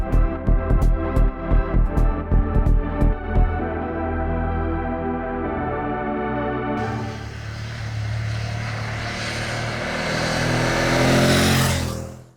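BMW F 850 GS motorcycle with an 853 cc inline two-cylinder engine, blipped in short revs at first, then held at a steady loud idle-to-mid drone that swells into a stronger rev near the end.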